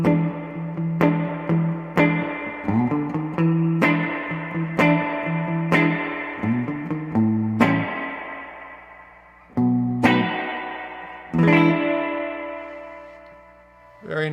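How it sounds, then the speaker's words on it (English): Electric guitar played through a spring reverb pedal at a trade expo, clean plucked notes and chords each ringing out in a splashy, trailing reverb tail, a slow phrase with pauses between strums. "I don't think you're going to find a better spring reverb sound in a pedal than this one"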